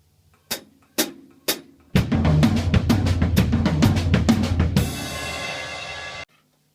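A drum kit plays a three-beat accent pattern, one unaccented stroke followed by two accented ones. Three crisp single hits open, a dense, loud stretch of strokes follows, and it ends on a sustained cymbal wash that cuts off abruptly.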